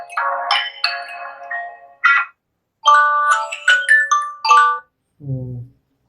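A Samsung Galaxy F41 smartphone ringtone plays at full volume, a bright melodic tone pattern in several bursts with short gaps, loud and close, ending on a lower tone, with no talking.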